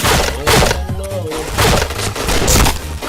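Loud, dense gunfire from a shooting video game crackles in rapid bursts with booming impacts, close and continuous, with a voice mixed in underneath.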